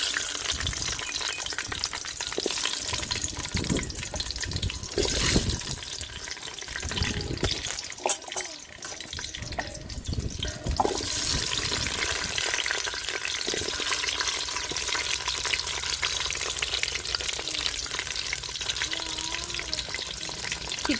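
Shallots and pulao spices fry in a pot with a continuous hiss and crackle. Intermittent scraping stirs and watery bubbling sounds rise and fall over the steady sizzle, with no talking.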